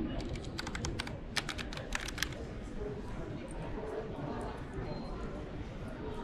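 Keys of a computer keyboard with missing keycaps clack in quick bursts of taps, close and crisp, then thin out to sparse clicks under quiet talking.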